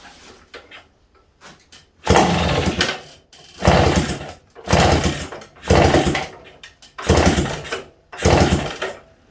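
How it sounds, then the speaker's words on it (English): A Suzuki TF185 motorcycle, left unused for ten years, is kicked over again and again with the choke off: six loud, evenly spaced bursts of mechanical churning, each lasting about a second, separated by short quiet gaps. "going to be on me kicking a motorcycle over and over and over again, many times"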